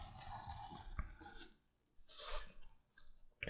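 Cutting and rasping as the edges of a glued, overnight-cured leather sheath for a cleaver are trimmed: uneven scraping, rubbing strokes in bursts with short pauses between, close and fairly loud.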